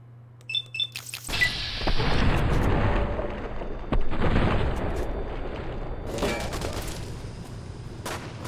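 Burst of gunfire in the Fallout: New California mod, a dense crackling volley that starts abruptly and keeps up with loud sharp reports for several seconds, close and heavy.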